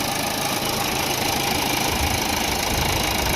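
A 2016 Toyota Etios engine idles close up, a steady, dense mechanical rumble with a light ticking texture and no voices.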